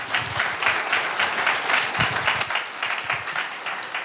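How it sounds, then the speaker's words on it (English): A live audience claps steadily in a sustained round of applause for a guest named Jake at a business talk, dense and fairly close, with no voices over it. "a round of applause for Jake"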